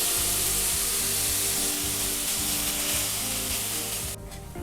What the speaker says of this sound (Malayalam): പെട്ടെന്ന് അന്നേരം നല്ലതായിട്ട് സവാളയൊന്ന് മൂത്ത് കിട്ടും.